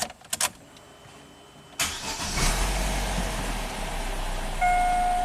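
A few quick clicks, then a Vauxhall Astra engine cranks and catches, settling into a steady idle hum with a faint high whine.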